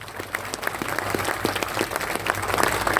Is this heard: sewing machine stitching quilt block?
no